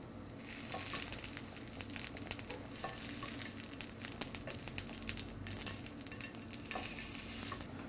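Garlic sizzles in extra virgin olive oil in a pan over medium heat, a steady close crackling fry with scattered stirring scrapes, fairly quiet and alone.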